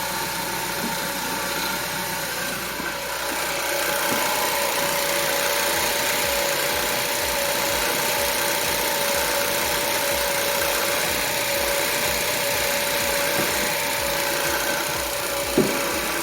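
A 2014 Ford Focus engine, freshly fitted with a new water pump, idles steadily and evenly at close range with a faint mechanical hum and no voices.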